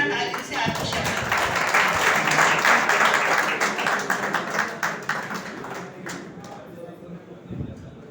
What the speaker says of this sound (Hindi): स्वागत करें जोरदार तालियों से आरपी शर्मा